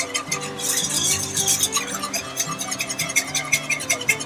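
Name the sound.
whisking lumps out of a sauce over low heat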